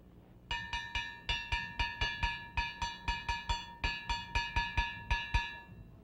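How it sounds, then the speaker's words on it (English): Struck metal gong from a West African ensemble beating a repeating pattern of three then two strokes, bright ringing clanks in a steady cycle, clear and alone. "The first gong starts with a grouping of 3 followed by a grouping of 2."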